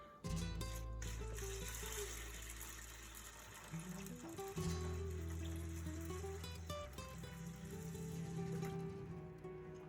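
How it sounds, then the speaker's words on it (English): Water is poured into lentils in a cooking pot, a steady gushing trickle heard close under a loud background of layered tonal music that largely covers it. "Now, we'll pour this water into the lentils to boil them."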